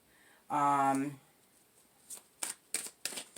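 Tarot cards are shuffled and tapped in a few quick, crisp bursts close by, following a short voice at the start.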